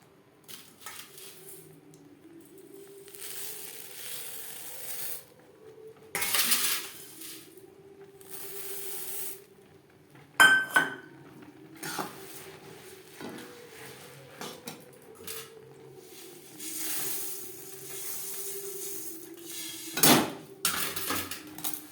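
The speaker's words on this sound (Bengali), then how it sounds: "এবার অল্প অল্প করে মুড়ি মেশাতে থাকবো আর নাড়তে থাকবো" Puffed rice being stirred into hot, sticky jaggery in a pan for murir moa, with repeated scraping and clattering of a utensil against the pan. The strokes come in irregular bursts, close and moderately loud, with no talking.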